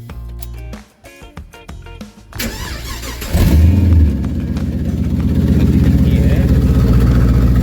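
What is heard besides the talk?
Holden Statesman engine running with exhaust undone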